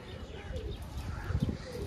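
Pigeons coo softly in a loft, with low, rolling calls and a few faint chirps, quiet and somewhat distant.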